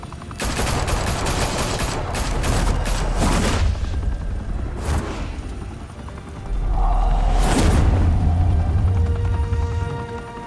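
Heavy gunfire in the Batman: The Telltale Series video game, loud bursts and volleys of shots with booming impacts, rumbling low end and a whirring, helicopter-like drone throughout, no talk.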